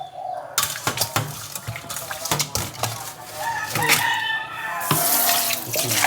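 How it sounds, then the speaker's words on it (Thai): Catfish pieces are rinsed under a running kitchen tap, with steady water splashing into a sink and repeated clattering and sloshing as the fish is handled. "ล้างปลาดุกต้องล้างหลายๆน้ำค่ะ"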